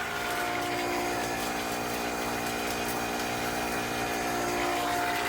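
Steady pump-like hum and whir while a 17-year-old crusty water heater drains, a constant mechanical drone with a faint watery hiss and no pauses.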